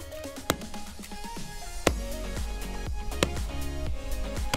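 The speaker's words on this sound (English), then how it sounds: "If you said an axe hitting a tree, you are correct." An axe striking a tree, with several sharp, loud chops at irregular intervals ringing out over a busy, layered background of other sound.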